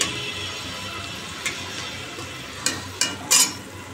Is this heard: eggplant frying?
yes